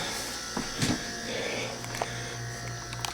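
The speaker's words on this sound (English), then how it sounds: "Ooh, I hear a compressor." A refrigerator compressor just plugged in runs as a steady low electrical hum, near and continuous, with a few faint clicks and knocks over it and no talking.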